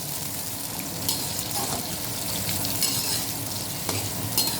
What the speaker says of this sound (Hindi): ऑयल गर्म हो चुका है। अब हम इसके अंदर ये प्याज डालते हैं।